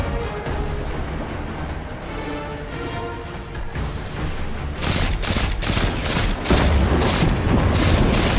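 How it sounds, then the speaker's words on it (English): In the Destiny 2 opening mission, missiles explode amid rapid gunfire, a rumbling battle bed swelling into loud, rapid booms and volleys in the second half, with no speech. "Missiles!"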